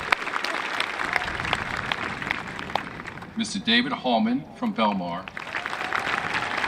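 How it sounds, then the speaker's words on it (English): Audience at the Manasquan High School 2021 graduation ceremony applauds steadily, a broad wash of clapping from a large crowd that continues while an announcer's voice speaks over it, the clapping dipping briefly then resuming. "you can applaud"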